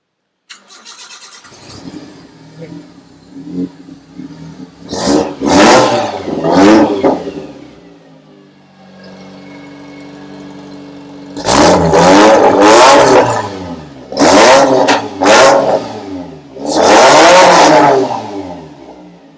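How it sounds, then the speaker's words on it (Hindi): Modified Maruti Gypsy with a tuned engine and rally header, idling then blipped hard through several sharp, loud revs separated by a steady idle, close up and with no talking. "रैली हेडर ने और इस ट्यून्ड इंजन की जो साउंड है वो काफ़ी शानदार हो चुकी है"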